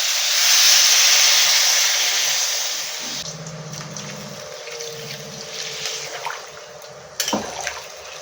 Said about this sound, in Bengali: মিক্সারে বাটি ধোয়া জলটা দিয়ে দেবো